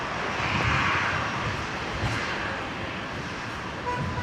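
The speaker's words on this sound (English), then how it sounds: "So the Fokker 70 on screen, which has just pushed back" Jet engines of a Fokker 70 airliner idle and spool after pushback at Brisbane Airport, heard as a steady, broad roar with a faint distant whine, constant throughout.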